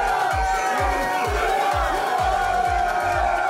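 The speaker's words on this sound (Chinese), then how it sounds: "通过终点线时，队员们还一起大声欢呼努纳" The Dutch solar car team shouts and cheers together at the finish line in Adelaide, South Australia, a loud, continuous crowd roar with overlapping voices and rhythmic low thumps.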